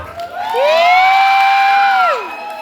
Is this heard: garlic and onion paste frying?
no